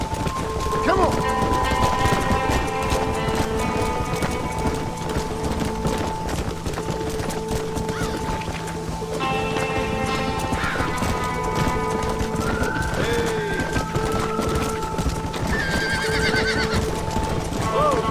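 Spooked horses stampeding in Red Dead Redemption, a dense clatter of hooves with repeated neighs and whinnies over a steady droning background, with a voice speaking at times.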